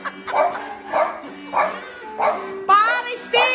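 Several loud, close barks from a female dog repeat in bursts at an indoor Christmas setting, with a whine-like tonal yelp near the end.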